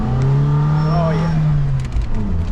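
A Toyota 4Runner's four-cylinder engine revs loudly and steadily close by, its strained tone seeming to fall flat near 4,000 RPM, with a person talking over the engine noise.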